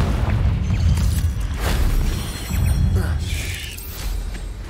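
Confringo spell explosions in Hogwarts Legacy, a series of low booming blasts and crackling impacts rolling over one another, with game sound effects around them.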